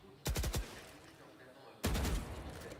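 Bursts of gunfire in the video game Valorant, a quick rapid volley followed after a pause by a louder, longer burst, with faint commentary underneath.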